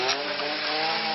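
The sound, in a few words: chainsaw clearing trees on cliff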